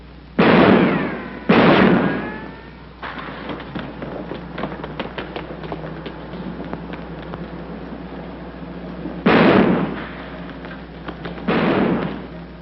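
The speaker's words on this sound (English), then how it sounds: "Hey, stop or I'll shoot!" Gunshots in a 1947 film: four heavy, booming bursts, a quick pair followed later by another pair, with a muffled, narrow-band old soundtrack hiss between them.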